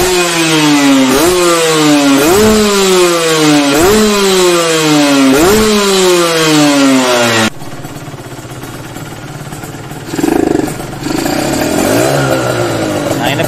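Motorcycle engine with an ill-fitting carburetor pilot jet revved loudly and close in a rapid series of about six rising-and-falling blips, then settling into a rougher, uneven running note with one more short throttle surge.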